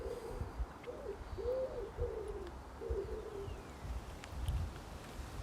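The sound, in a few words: bird cooing outdoors on a windy day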